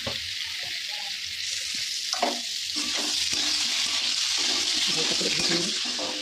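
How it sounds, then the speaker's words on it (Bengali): Young jackfruit fries in hot oil in a wok with turmeric, giving a continuous bright sizzle with occasional utensil scrapes and stirring knocks, close up and without talk. "এবার এখানে কড়াই তেলের উপরে এঁচোড়টাও দিয়ে দিলাম, হালকা হলুদ দিয়ে আর একটু হালকা ফ্রাই করে নেবো"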